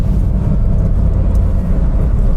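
Second-generation Suzuki Swift ZC71S, two-wheel drive, heading downhill, a steady low engine and road hum heard from inside the car, loud and unbroken, with no talk.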